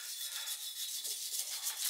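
Soft, steady scrubbing of a small brush with engine cleaner on 1968 GTO front-end parts, rhythmic bristly rubbing strokes, close and fairly quiet, no voices.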